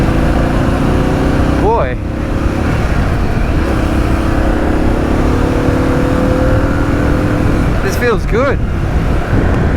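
A Harley-Davidson Pan America motorcycle engine drones steadily while riding, with a rising rev at a couple of points and wind noise throughout; a rider speaks briefly over it.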